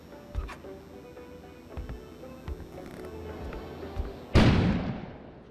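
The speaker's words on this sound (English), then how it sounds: "An explosion suddenly occurred outside." A sudden loud explosion bursts outside in the video game Kona, a sharp boom that rolls off into a fading rumble after several faint thuds.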